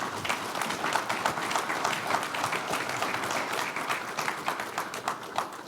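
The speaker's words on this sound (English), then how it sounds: "Let's give our panelists and Megan, our moderator, a round of applause." A workshop audience applauds its panelists and moderator, a sustained round of many hands clapping at an even level throughout, filling the room.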